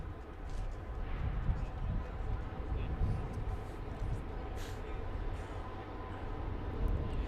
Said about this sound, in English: And no, that's not a tornado you hear. That is a train.